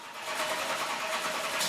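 A race car engine at DeKalb drones in a steady, buzzy high-pitched revving tone, sustained throughout and heard without any talking.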